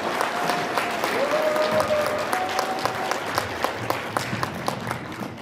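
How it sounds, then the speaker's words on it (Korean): An indoor audience at a Christian committee founding meeting claps to welcome a speaker, a steady spread of hand claps at moderate volume with individual claps standing out, and a faint sustained tone early on. "우리 박수로 한번 맞이해 주시기 바랍니다."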